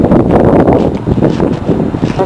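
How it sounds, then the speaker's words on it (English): Gusty wind buffets the microphone with low rumbling bursts, loud and close, with voices faintly mixed in. "as you can see, it's very windy out"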